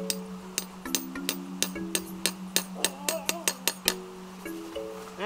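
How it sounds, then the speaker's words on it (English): A hammer tapping a metal sap tap into a maple tree outdoors in St. John's: a long series of light, evenly spaced metallic clinks, crisp and close, over a steady low hum. "just have something like a hammer and just give it a couple gentle taps"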